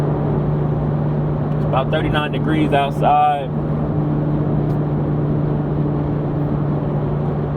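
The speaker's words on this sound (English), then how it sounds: "I only hear the exhaust. I don't even hear the engine." A 2023 Toyota GR Supra A91-MT Edition's exhaust holds a steady low drone while driving, heard from inside the cabin beneath a man's brief speech.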